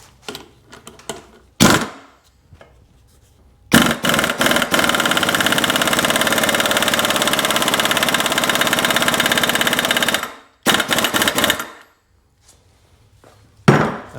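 A Sea-Doo personal watercraft engine running in reverse in a workshop while being parted out, a steady loud buzzing drone for about six seconds, framed by clattering and knocks before and after.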